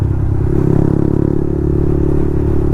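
Yamaha MT-15 motorcycle fitted with a loud Akrapovic full-system exhaust, heard close as a steady low-pitched engine drone with a slight rise partway through, holding a constant rumble for the whole stretch.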